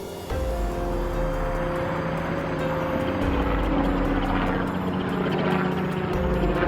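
A helicopter's steady, loud rotor thrum and engine drone, close and continuous, with a rhythmic chopping pulse running throughout.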